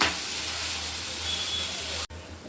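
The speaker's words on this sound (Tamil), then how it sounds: "என் பையனுக்கு நெய் பிடிக்கும் அதனால் நெய் தோசை நெய் ஊற்றிக்கிறேன்" A ghee dosa made with musumusukkai greens sizzles on a hot pan, a constant bright hiss up close that cuts out briefly just before the end.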